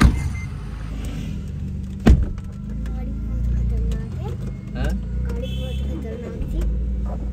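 Steady low engine rumble and road noise heard from inside a moving DC Avanti sports car, with a sharp thump, occasional clicks and people talking quietly.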